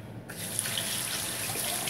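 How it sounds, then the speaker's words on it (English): Water runs steadily from a sink tap as hands are washed, a continuous close splashing hiss with small shifting splashes throughout and no talking. "Let me wash my hands."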